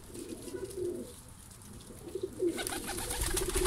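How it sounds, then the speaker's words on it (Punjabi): Newly acquired pigeons coo softly and repeatedly on a rooftop, the low throaty calls coming in bursts close by, with a brighter hissy wash of background noise rising toward the end. "ਨਵੇਂ ਕਬੂਤਰ ਲੈ ਕੇ ਆਏ ਹਾਂ"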